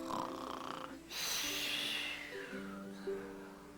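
People imitating snoring for a sleeping jackrabbit, a long drawn, breathy, hissing snore swelling through the middle, with faint voices around it in a quiet room.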